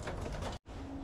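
A racing pigeon cooing in a loft, soft low throaty coos close by, broken by one brief gap of silence.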